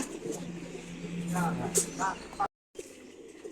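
Racing pigeons coo softly in their loft, with low murmuring calls close by under someone talking, followed by a brief silent gap.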